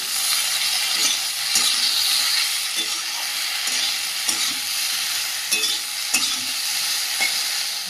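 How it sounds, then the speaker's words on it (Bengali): Pre-fried long beans are stir-fried in a little oil, with a constant close sizzle punctuated by regular spatula scrapes and knocks against the pan, and no voices. "ভেজে রাখা বরবটিগুলো দিয়ে দেবো দিয়ে ভালো করে কষিয়ে নেবো"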